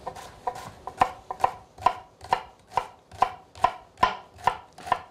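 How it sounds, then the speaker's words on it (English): A knife slices fennel thinly on a cutting board, about a dozen crisp, evenly spaced chops in a steady rhythm, close and clear with no talking. "we're just going to slice this up nice and thin"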